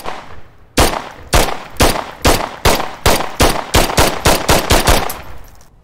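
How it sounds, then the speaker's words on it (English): Gunfire from a pistol in a virtual reality first-person shooter game: about fourteen loud, sharp shots, spaced evenly at first and then coming faster, each with a short echoing tail and no talking. "you pull the trigger to fire"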